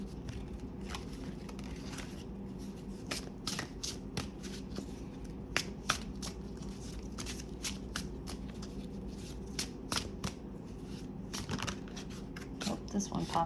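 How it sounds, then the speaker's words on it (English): Gilded tarot cards being overhand shuffled, a close, steady rustle broken by crisp riffling slaps and flicks that repeat through the whole stretch, with a voice speaking softly now and then. "Let's just shuffle here and pull a card."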